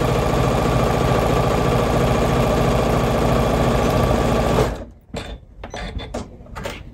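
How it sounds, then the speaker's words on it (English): A sewing machine stitches a fabric shoe bag, a steady, loud mechanical whir for about four and a half seconds that stops abruptly, followed by quieter handling noises. "So we sewed the entire piece together."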